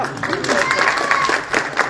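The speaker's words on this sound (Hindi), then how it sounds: "चलो भाई ताली बजा के स्वागत करते हैं।" Crowd applause welcoming a speaker at an outdoor village election rally for a by-election, with voices mixed into the steady clapping for about two seconds.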